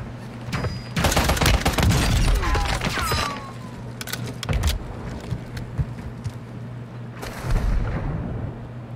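Call of Duty gunfire on Ashika Island comes in dense bursts of rapid shots that swell and fade, with a steady low hum from the game beneath the volleys.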